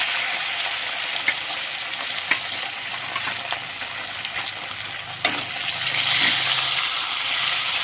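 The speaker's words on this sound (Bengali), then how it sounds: "তেলটা গরম হতে আগে দিয়ে দিয়েছি মাছটা ভেজে নেবো" Tilapia fish fries in hot oil with a steady, close sizzle, marked by scattered sharp pops and clicks of stirring and rising slightly louder toward the end.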